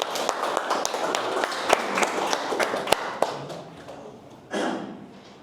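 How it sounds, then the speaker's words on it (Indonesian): A classroom of students claps for a classmate during a micro-teaching practice lesson, a loose burst of near hand claps with sharp individual slaps that thins out and fades, ending in a brief shuffle. "Tepuk tangan untuk Andri."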